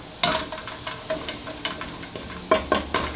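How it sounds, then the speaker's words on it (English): Garlic sweats over low heat in a pan for stuffed bell peppers, giving a quiet, low sizzle broken by several sharper scraping stirs. "That's why the sizzle you hear is so low."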